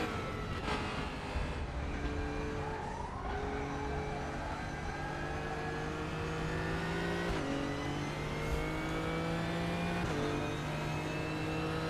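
Nissan GTR GT3 race car engine in the RaceRoom sim at Watkins Glen, a steady loud drone with harmonic whine rising through the gears, sharp upshift breaks near 7 and 10 seconds, continuous throughout.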